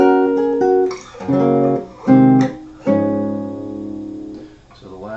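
Chords from the American national anthem, illustrating a secondary dominant, sound loud and near as a slow sequence of sustained chords, each ringing for a moment before the next, with no talk over them.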